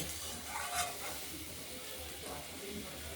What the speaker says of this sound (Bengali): নেড়ে ছেড়ে ভাজতে হবে